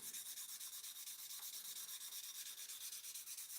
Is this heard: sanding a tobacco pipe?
yes